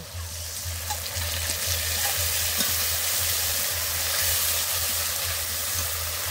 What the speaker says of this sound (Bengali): বেটে রাখা আদাটা দিয়ে দেব।